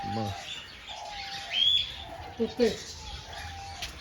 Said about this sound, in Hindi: ये पैरेट छोटे छोटे।